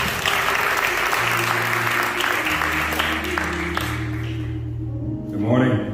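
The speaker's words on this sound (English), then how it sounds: "Let's clap our hands for our dear brother." A church congregation claps together in sustained, dense applause close by, fading out near the end as a voice begins to speak.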